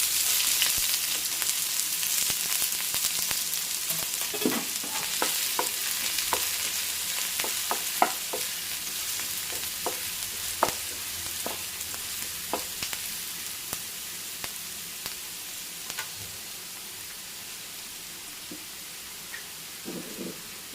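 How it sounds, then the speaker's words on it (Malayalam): Green chilli and sliced onion frying in hot coconut oil, a dense continuous hiss with scattered crackles and light utensil taps that slowly thin out. "വെളിച്ചെണ്ണ ചൂടായി വന്നിട്ടുണ്ട് ഇതിലേക്ക് നമ്മൾ കട്ട് ചെയ്ത് വെച്ചിരിക്കുന്ന പച്ചമുളക് ഇട്ട് കൊടുത്തു സവാള കൊടുത്തു"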